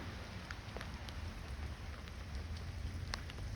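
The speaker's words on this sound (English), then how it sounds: "welcome back to the Right Strappin' in a wet, rainy night in Washington." Steady rain falls on a wet night in Washington, a constant soft hiss of drops on surfaces with scattered brighter patters, moderately close and unbroken, with no voices.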